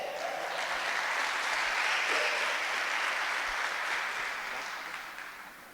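A large conference audience claps steadily and loudly in a church-style gathering, a sustained wash of applause that tapers off slightly toward the end.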